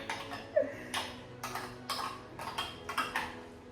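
A spoon stirs warm milk into a mash, making a series of quiet, rhythmic clinks and scrapes against the bowl, roughly two per second, close and faint with a soft music bed underneath.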